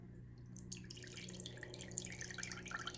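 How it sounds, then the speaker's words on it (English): Water pours into a crock pot as a short, close splashing trickle over a low steady hum, with no talking. "I'm gonna add about a 1/4 cup of water"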